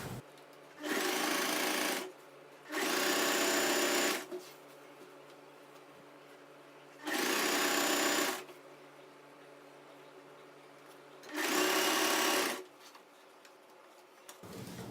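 Domestic sewing machine stitching a saree fall along the hem, running in four separate bursts of steady motor whir, each lasting one to two seconds, with quiet pauses between them and no talk.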